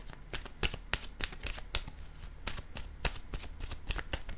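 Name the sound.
shuffling tarot cards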